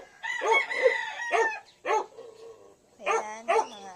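Roosters crowing and chickens clucking in a backyard farm field, several separate calls coming in bursts, fairly close and clear, with a brief gap in the middle and no talking.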